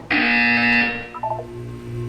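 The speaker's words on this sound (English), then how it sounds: "You will hear a buzzer." A Portal 2 video game buzzer sounds once, a loud harsh electronic tone lasting under a second, followed by a few short softer electronic beeps against a low hum.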